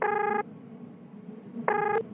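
A cellphone call rings back with two short bursts of electronic tone, separated by a quiet gap, clear and close.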